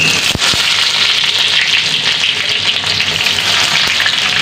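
Chopped onion hits hot oil with bay leaf and cumin seeds, giving a loud, steady, close sizzle and crackle with a few sharp pops near the start.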